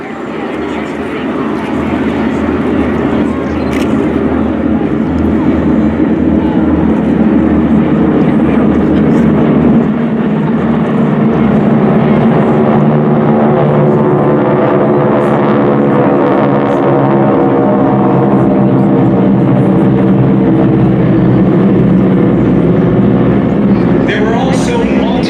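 Two flights of four 600-horsepower T-6 Texan trainers passing overhead in formation at a WWII victory flyover, a loud, steady propeller-engine roar that swells and holds throughout, with an announcer talking over it.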